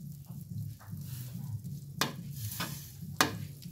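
Butter melting in a pan before shrimp are cooked with Sprite, giving a steady low sizzle with a few sharp clinks of a utensil against the pan, close and alone.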